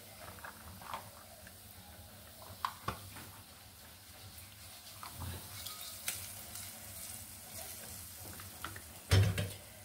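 Fried onion and dried chili tempering goes into a pot of dal. Quiet stirring and scraping sounds lead up to a sudden loud sizzle near the end.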